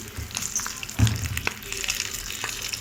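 Beef pieces frying in hot oil and melting fat for a korma, a steady close sizzle with a soft stirring scrape partway through.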